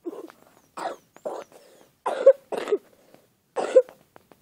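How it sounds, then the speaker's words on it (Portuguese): Several harsh coughs in short bursts from a person with the flu, close to the mic, with brief pauses between them and no talking. "me desculpe porque eu tô tossindo ainda, até estou com gripe"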